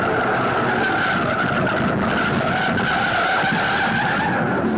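A 1969 NASCAR race car at the Southern 500 loses its engine in the third turn and skids, a sustained loud roar of engine and tire scrub with no break.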